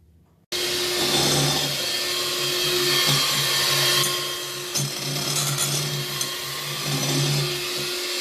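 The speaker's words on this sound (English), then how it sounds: "now you're going to use the electric mixer" An electric mixer beating macaroon batter in a large bowl starts abruptly and runs as a loud, steady motor whine with a grinding rattle, close by and without speech.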